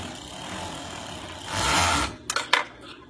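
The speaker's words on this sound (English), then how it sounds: "she's now going to take it over to the serger and just finish the top edge of the hat" Serger overlocking the top edge of a stretch-fabric beanie hat, a steady whirring run that swells loud for a moment, then a few sharp clicks and knocks as it stops.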